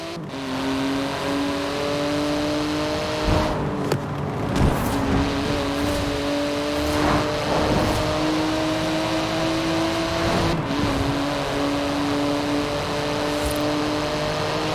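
A car in Forza Horizon 4, fitted with carbon ceramic brakes, drones with a steady engine note whose pitch shifts up and down, broken by a few brief whooshing bursts as it slows toward the finish.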